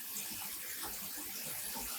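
Zip ties being dunked and rinsed in water after speckle-dyeing natural white yarn, a steady close splashing and sloshing with no voices.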